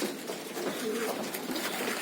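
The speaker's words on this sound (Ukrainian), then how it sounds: "Повернувся ще один голуб." A returned racing pigeon coos softly near its loft, a low rolling call under steady outdoor background noise.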